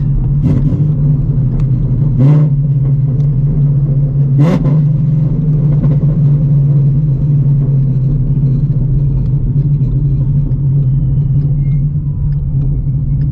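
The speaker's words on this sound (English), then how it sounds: "Let me go ahead and just do a downshift test." A 950-horsepower Shelby GT350 with a new transmission runs with a loud, steady low engine drone and rumble heard from inside the car, with faint brief clicks on top and no clear rise in revs.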